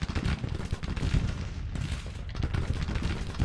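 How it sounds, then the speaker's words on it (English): Artillery in Grand Tactician: The Civil War, 24-pounder and 10-pounder rifled guns, fires in a dense, continuous barrage of booming shots and crackling volleys. The rumble is loud and steady throughout, with no voices. "we just need to get all the guns firing down on the enemy"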